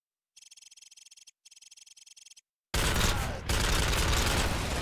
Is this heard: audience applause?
no